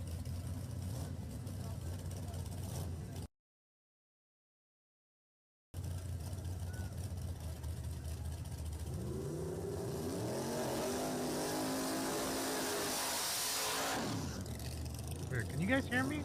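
Cars drive and rev at a Thursday night drag racing event. A continuous engine roar carries rising revving sweeps, heard at a distance with some wind-like noise and a brief dropout partway through.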